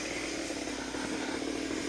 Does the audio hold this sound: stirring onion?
no